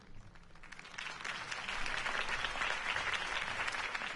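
Crowd applause at a campaign rally for Harvey Dent in the Batman Telltale video game, a broad swell of many hands clapping that builds after a quieter start and holds steady, sounding somewhat distant.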